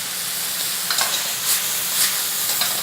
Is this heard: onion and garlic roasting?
yes